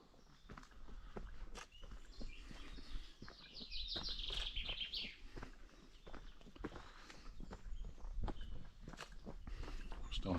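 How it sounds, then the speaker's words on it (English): Birds chirp and sing faintly in the background on a mountain hike near Orient in Mallorca, a short trill rising over steady crunching footsteps on a rocky path. "Starting to hear lots of birds as well now, which is quite nice."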